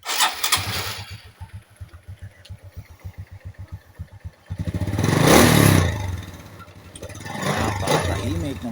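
A Honda XRM 125 motorcycle is started with a rapid run of cranking pulses, then the engine catches and revs up before settling into a steady, close idle.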